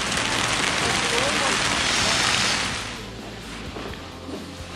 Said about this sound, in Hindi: फाइनली बैक इन हॉस्टल और बारिश अभी तक नहीं रुकी है.